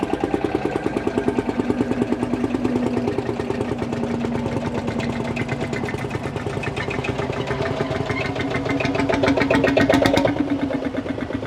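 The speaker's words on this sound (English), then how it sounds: "big single cylinder diesel engines. You can just hear it, dug, dug, dug" A single-cylinder diesel Field Marshall tractor engine chugs steadily and close by at a vintage show, a slow, even thumping beat that continues throughout with no voices.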